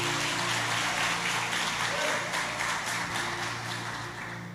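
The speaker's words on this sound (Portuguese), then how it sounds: "Vamos dar um aplauso ao Senhor por esse casal?" A church congregation applauds, dense steady clapping that fills the room and slowly fades toward the end.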